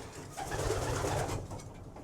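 Racing pigeons coo softly inside a loft, a short low rolling burst of cooing rising and fading over quiet background hiss.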